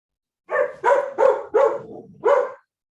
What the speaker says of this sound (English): Can somebody let their dog in?